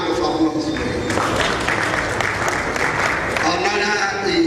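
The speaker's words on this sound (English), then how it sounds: "Please, a hand of applause." Audience applause at an African national convention and annual lecture, a steady wash of clapping that runs through the whole stretch, with voices and other background sound mixed in.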